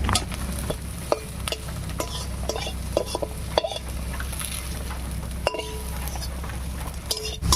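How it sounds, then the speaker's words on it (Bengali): Onions and slit green chillies fry in a pan, a steady sizzle under frequent metallic clinks and scrapes of a spoon stirring, close and fairly loud. "এবার এর মধ্যে দেবো চেরা কাঁচা লঙ্কা পেঁয়াজটা বেশ লাল লাল হয়ে গেছে ভাজা হয়ে"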